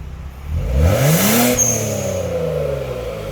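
A Genesis G70 3.3 with an electronic variable exhaust, valve closed, revs loudly close by, its engine note sweeping upward in pitch then settling to a steady, muted drone.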